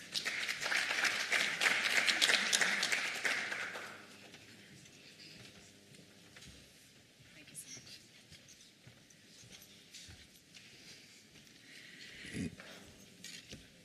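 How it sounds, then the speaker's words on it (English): A conference audience at a sustainable industries event claps for a speaker called to the stage: a full burst of applause for about four seconds, then it dies away into quiet room noise with a few stray sounds. "please give her a round of applause"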